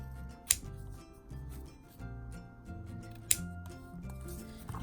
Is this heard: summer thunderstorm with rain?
no